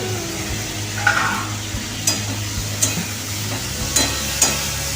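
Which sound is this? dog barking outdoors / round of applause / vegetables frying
vegetables frying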